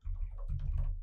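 A computer keyboard typing a terminal command, heard as a dense run of close keystrokes over a steady low hum in a short burst.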